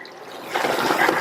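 Half a cup of hot water is poured into potato masala in a pan. A short splashing, trickling pour starts after a quiet moment and continues close and clear to the end.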